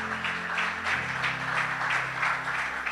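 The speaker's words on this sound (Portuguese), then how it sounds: "Uma salva de palmas." A church congregation applauds steadily for a few seconds, a dense patter of clapping with a low hum underneath.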